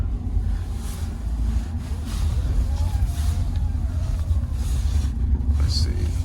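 A Toyota Avalon picked up from a car auction drives along at speed, its low engine and road rumble steady and close from inside the cabin, with a brief voice heard over it.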